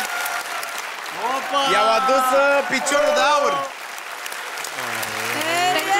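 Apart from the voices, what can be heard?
audience applause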